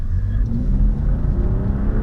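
A BMW 435i 4 Series accelerates hard on a performance-driving course toward a line of cones, its engine a steady, deep rumble with a rising whir, heard alone at moderate distance.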